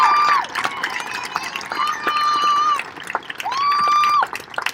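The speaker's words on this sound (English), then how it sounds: "let's give one more round of applause for all of our students" Families at a middle school graduation ceremony celebrate the graduating students with crowd noise and cheering. Several long, loud horn blasts sound over the cheering, and scattered claps and voices fill the gaps between them.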